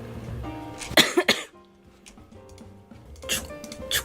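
A girl coughs sharply twice in quick succession at close range, with quieter room noise and faint ticking between, then another cough burst near the end.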